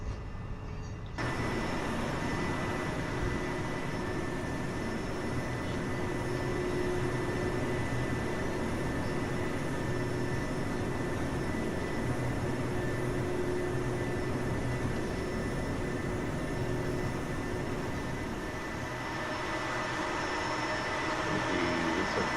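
A Boeing 777-200LR airliner taxis to the gate in X-Plane 11, its engines a steady, loud whine and rumble running continuously after starting abruptly.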